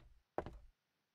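A door in the horror game Emily Wants To Play shuts with a single muffled knocking thud followed by a brief rattle, heard alone in near silence.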